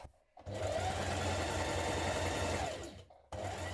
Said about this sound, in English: we're going to be using a stretch stitch or a zigzag stitch throughout